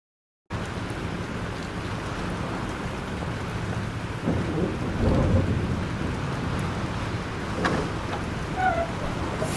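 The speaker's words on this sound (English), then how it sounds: "This storm is real." A thunderstorm with steady heavy rain in the video game Life is Strange, a dense continuous downpour with low rolling thunder swelling in the middle, loud and unbroken after a brief silent start, with no talking.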